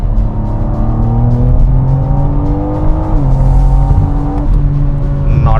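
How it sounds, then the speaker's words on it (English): A BMW G82 M4 with an Akrapovic catback exhaust and valves open is pushed to full throttle after downshifting, a loud, continuous rising engine roar with a shift near the middle and a crackle at the end. "let's downshift a few gears and listen to how the exhaust sounds at full throttle"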